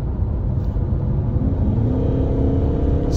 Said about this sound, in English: Can we do a kick down in sport mode as well?